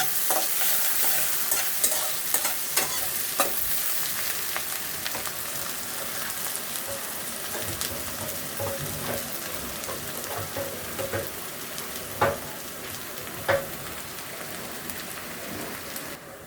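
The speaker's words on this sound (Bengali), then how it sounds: "পেঁয়াজগুলো সুন্দর করে ভেজে নিব" Sliced onions fry in hot oil with whole garam masala, giving a close, steady sizzle. Occasional scraping stirs and clicks sound throughout, and no one speaks.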